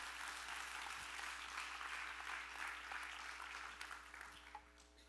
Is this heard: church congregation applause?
yes